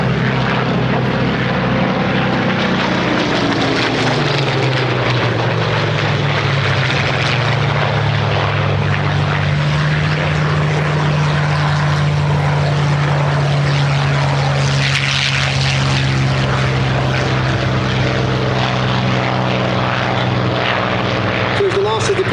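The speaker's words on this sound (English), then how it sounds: "The 2 Mark 14s in front of us are going to keep us amused with their raucous griffin noise." Two Spitfire Mark 14 fighters at an airshow produce a raucous, throaty Griffon piston-engine drone that holds steady and rises and falls as they fly nearby, with an announcer talking over the roar.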